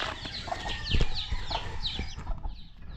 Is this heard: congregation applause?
no